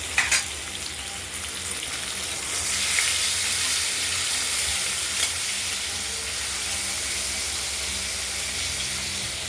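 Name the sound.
potatoes frying in oil in a pan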